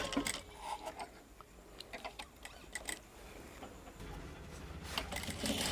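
A sewing machine stitching blouse fabric runs in quiet, uneven bursts of rapid mechanical ticking and whirring, close by, with short pauses between runs.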